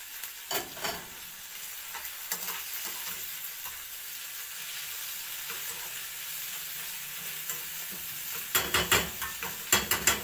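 Chicken liver goes into a hot pan with browned food and fries in a continuous sizzle. Stirring clatters against the pan near the start and in a quick series near the end, with no voices.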